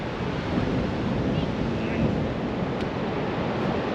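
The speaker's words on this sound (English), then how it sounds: "You can see the surf." Low surf rolling onto a beach near Gisborne, New Zealand, a steady broadband wash mixed with strong wind buffeting the microphone, continuous and fairly loud throughout with no distinct breaks between waves.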